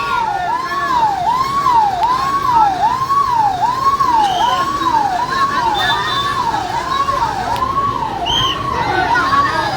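An ambulance siren wails in a steady, repeating up-and-down sweep through a road blockade where protesters are staging a traffic jam and police are clearing a path; loud and continuous, with faint crowd noise underneath.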